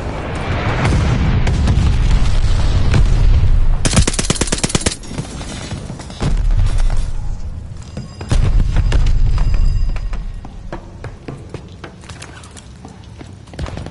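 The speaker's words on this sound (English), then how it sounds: "Sending a glide bomb." A glide bomb strikes in a video game, setting off heavy booming blasts with rumbling low ends and crackling debris. Several loud bursts arrive over the span, separated by short lulls.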